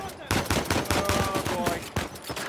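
Rapid gunfire in Uncharted 4, a dense string of sharp close shots crackling almost without pause for a couple of seconds.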